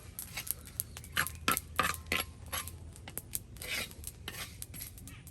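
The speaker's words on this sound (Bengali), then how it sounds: "কালো জিরা ভেজে নেওয়া হবে। কালো জিরা ফুটতেছে গো।" Black cumin (nigella) seeds frying in hot oil in a pan give off irregular sharp crackles and light metallic clinks, close up and fairly quiet, with no voices.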